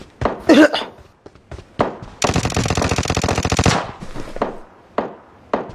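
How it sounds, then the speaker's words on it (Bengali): Rapid automatic gunfire from a video game, a dense sustained burst of about a second and a half, with scattered single shots and short pops before and after it. "গুলি করছে রে"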